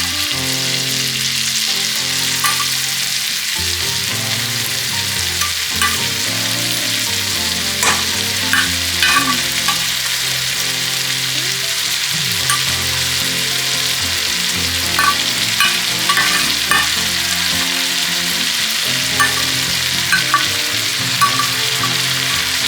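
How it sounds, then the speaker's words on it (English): Roasted cauliflower being stirred in a frying pan, a steady close sizzle with repeated scraping and stirring strokes throughout, no voices. "just going to stir all this together"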